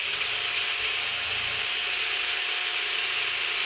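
A drill boring through a wooden snowshoe frame, heard as a steady, loud high-pitched whine that runs unbroken throughout with no talk.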